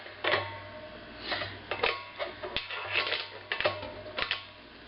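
A 7/8 inch wrench works the in valve on a Cornelius keg, giving a run of sharp metallic clicks and ratcheting taps in uneven bursts, close and fairly quiet over a low steady hum.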